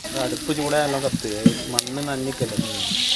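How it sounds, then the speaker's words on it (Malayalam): Steady oily sizzling of onions frying in a pot for biryani, with voices talking loudly over it throughout. "ഇപ്പം ഞങ്ങളിതാ ബിരിയാണി വെക്കാനായിട്ടുള്ള ഉള്ളി വാട്ടിക്കൊണ്ടിരിക്കുകയാണ്"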